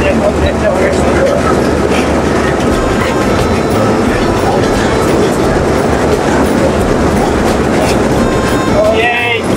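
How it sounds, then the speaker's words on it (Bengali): A small amusement park train ride at a park and resort in Shibganj, Bogura, rumbles steadily with a continuous rolling clatter throughout, loud and close, with people talking over it. "এই ট্রেন রাইডটি দেখুন, দেখতে অনেক সুন্দর।"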